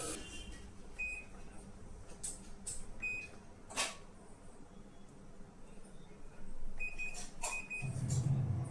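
A Whirlpool washing machine is switched on, and its keypad answers with a few short, high electronic beeps, spaced irregularly. The beeps sound faint against a low background hum, with a thud and a rising rumble near the end.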